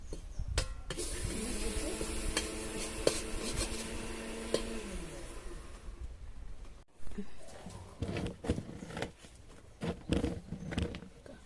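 Ground spices, coriander, chili and fenugreek powder, stirred and fried in a pan, giving steady scraping and clinking with soft sizzle, near and fairly loud, with a tonal hum over the first half.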